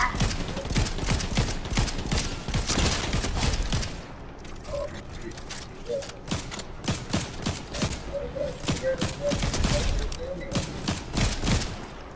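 Rapid bursts of cannon fire in the video game Fortnite, loud dense volleys of blasts for the first four seconds, then scattered sharper shots and thuds through the rest, with a voice speaking briefly.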